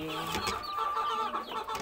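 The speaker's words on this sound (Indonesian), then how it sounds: "Ini juga anakan ayam." Young chickens in a backyard coop cluck and chirp continuously at close range, with overlapping short, high calls and no pauses.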